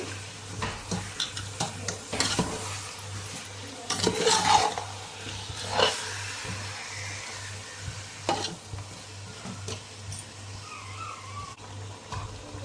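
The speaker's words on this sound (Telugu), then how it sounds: "ఇప్పుడు బాగా మిక్స్ చేసుకోవాలి." A biryani mixture with mutton is stirred in a pot with steady scraping strokes over a continuous sizzle of frying, close and clear, with no voices.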